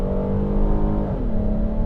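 A 2022 Kia Carnival SX engine running loud and close from inside the cabin, a steady droning hum whose pitch shifts downward briefly midway as the throttle eases, with no talk.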